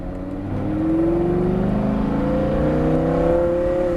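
A Lamborghini Gallardo supercar on a driving course picks up speed, its engine note swelling from quiet into a loud, steady rising drone that holds and climbs for several seconds, close and alone.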